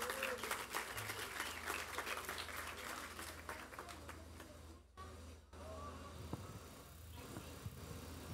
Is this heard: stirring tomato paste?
no